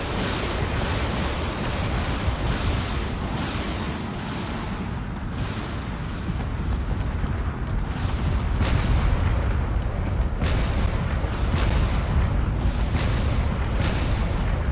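Video game battle: fighters and corvettes fire on a battleship in a continuous barrage of gunfire and booming cannon blasts over a dense, roaring rumble, heavy shots punching through repeatedly and growing louder toward the end. No talking.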